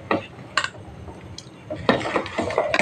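Ladle stirring payesh rice pudding in a pot, several scraping clinks of metal against the pot at irregular intervals over a quiet background, no talking.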